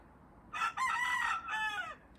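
Backyard chickens calling in a garden, a few loud harmonic squawks in quick succession with short gaps, close by and heard alone.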